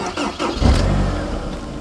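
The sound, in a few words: Honda S sports car engine starting with the key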